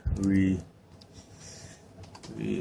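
Keys clatter on a computer keyboard being typed on at a desk, a brief muffled burst of clicks between moments of someone talking nearby, for an ultra compact barebone PC setup.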